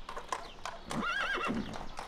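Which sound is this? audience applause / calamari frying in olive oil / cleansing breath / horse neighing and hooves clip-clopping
horse neighing and hooves clip-clopping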